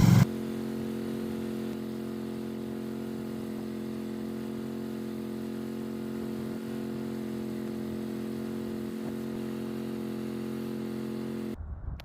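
A ride-on mower engine runs at a steady, constant idle for about twelve seconds, a continuous close mechanical drone with no talk, stopping abruptly just before the end.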